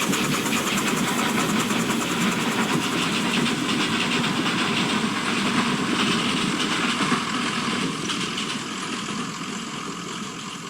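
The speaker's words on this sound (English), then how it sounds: "Now Typhoon is seen departing Dymchurch with Sheila on the rear with a train for Hythe." Miniature steam locomotive Typhoon pulling away from Dymchurch with a train for Hythe, a steady loud rumbling chuff and rail noise that holds for several seconds, then eases slightly as it moves off.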